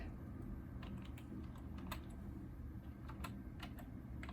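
Fingers tap on a computer keyboard beside an old Mac Pro 1,1 machine, with sparse, irregular clicks over a steady background hum.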